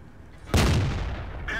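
A single heavy tank cannon shot from a World of Tanks style battle, a sudden loud blast after quiet rumble that rolls off slowly, followed by a brief metallic clank near the end.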